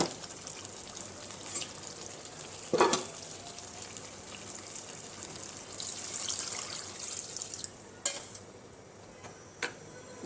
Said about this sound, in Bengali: তো এখন আমি ঝোলের পানি দিব